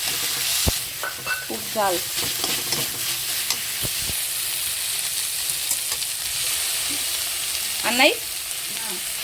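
Spices, garlic and hot chilli frying in a pan while being stirred, with steady sizzling throughout and scraping strokes, under occasional women's chatter nearby.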